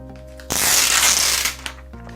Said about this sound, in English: Let's go ahead and do the honorary peel.